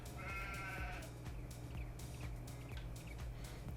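A single sheep bleats once near the start in the Farming Simulator 22 video game, a short wavering cry heard quietly over a low steady background hum.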